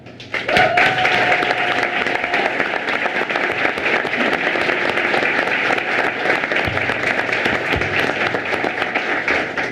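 Audience applause at a school board meeting, sustained and steady for the whole stretch, a full room of clapping at even loudness.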